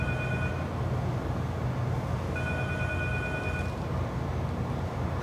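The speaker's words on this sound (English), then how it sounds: "I think you should get that phone." A telephone rings in a theatre stage production, with repeated electronic ring bursts in two clear sets over a steady background of room noise; no one speaks during the rings.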